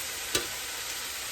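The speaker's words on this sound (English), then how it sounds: "Hope y'all can hear me over this frying." Constant loud sizzling of shrimp and broccoli frying in a pan, with one quick scrape or stir near the start.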